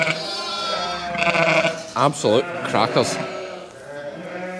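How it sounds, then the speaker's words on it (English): Sheep bleat loudly in a lambing shed as they wait to be fed, several strained calls overlapping close by. Someone talks over the flock throughout. "I need to feed these sheep, they're going to be really loud until I do"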